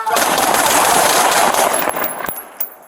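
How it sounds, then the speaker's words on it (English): Gunfire from a police shooting captured on a body camera, a loud dense burst of shots fired in rapid succession, then a few separate sharp cracks as the volley dies down. "shots fired. Shots fired."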